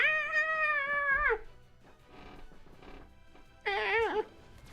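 A pet cat lets out two loud, drawn-out meows close to the microphone, one long and steady and a second shorter, wavering one, with quieter sounds in the gap between them.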